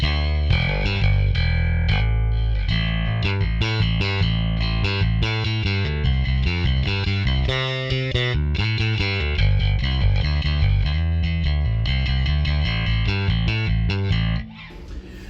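Distorted electric guitar riff through an amp model without a drive pedal, played continuously with a thick amp-style tone, rhythmic chugging notes for about fourteen seconds before stopping abruptly.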